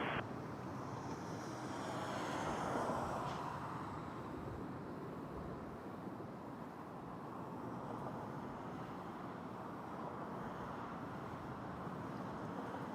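At Toronto Pearson airport, an Airbus A321 jet takes off from runway 06 left, its engines a broad, steady roar at moderate distance that swells slightly around the third second and then holds, with no speech.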